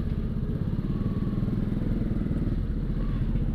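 Steady rumbling Suzuki Satria FU Sonic 150R motorcycle engine at riding speed, constant and close, with low road noise and no talking.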